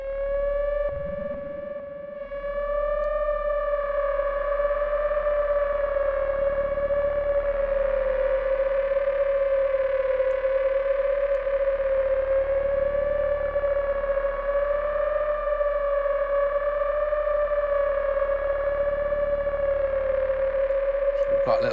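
The AGONIZER software synth by Kai Aras and Jakob Haq holds a sustained lead tone with wobbling modulation and rich harmonics, steady and loud after a short noisy start, with no talking over it.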